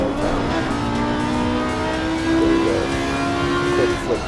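A GT3 or GT4 race car engine drones steadily in a racing video game. The motor hums loudly and continuously with shifting, rising tones and brief swells near the end.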